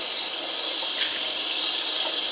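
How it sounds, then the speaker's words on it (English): Hot water streams steadily from a kitchen tap as dishes are rinsed, a close, continuous hissing flow with slight splashes against the sink and no voices. "I'll rinse them, I'll stick them in the strainer first"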